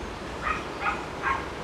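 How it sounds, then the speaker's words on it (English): A small yappy dog on a coastal clifftop path gives three short, high yips evenly spaced, moderately close, over a steady wash of wind and surf. "That's more yappy dog."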